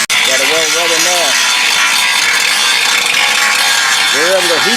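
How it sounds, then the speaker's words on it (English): Grinding down steel on a backhoe and quad repair, a loud continuous abrasive roar with a voice briefly at the start and again near the end. "Still grinding it down"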